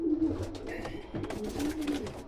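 Pigeons coo in a loft, low soft repeated coos close by over faint rustling and background hum, with no talking.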